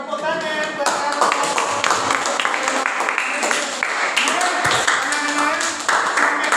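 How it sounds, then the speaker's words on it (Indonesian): Children clapping in a classroom, a close, loud, somewhat uneven burst of hand claps mixed with voices and chatter throughout. "Oke, tepuk tangan buat kamu."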